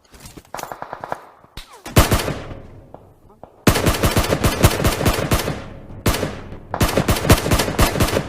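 Rapid bursts of automatic gunfire with sharp single shots between, loud and close, separated by short quiet gaps, in the game PUBG Mobile.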